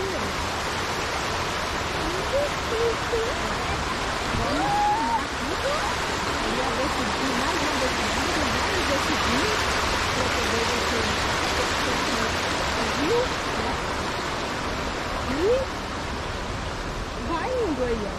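A river flowing beside a campsite at a thermal-springs park in Rio Quente, Caldas Novas, with a steady broadband rush of water that holds constant throughout, fairly faint, while birds chirp intermittently in the background.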